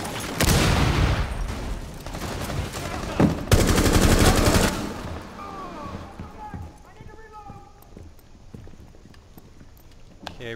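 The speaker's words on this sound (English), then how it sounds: "Don't get near the charge when you detonate it" A breach charge blows in Rainbow Six Siege on the Consulate map, with loud bursts of rapid gunfire for several seconds before the fire thins out and a voice talks over scattered shots.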